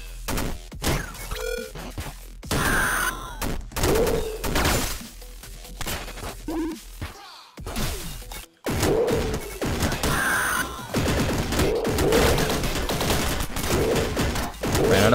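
Rapid video game gunfire in Downwell, loud staccato bursts of shots and crashing impacts in clusters, broken by a couple of sudden silent gaps, with bright synthetic game effects between.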